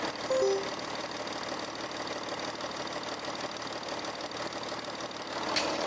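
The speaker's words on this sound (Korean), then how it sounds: "지금 또 엔진 상태까지 너무 좋습니다 바로 엔진 소리 한번" An Audi A6 3.0 TDI quattro diesel engine idles steadily and quietly nearby, a low even hum with a faint rhythmic clatter, no voices.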